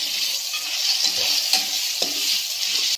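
Finely chopped cabbage goes into a hot frying pan and is stirred, giving a loud continuous sizzle close up with a few soft knocks of the spoon, ending abruptly.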